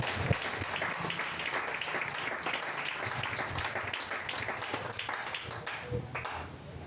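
A church congregation breaks into sustained applause and clapping, dense and steady throughout at an even level, tapering slightly at the very end.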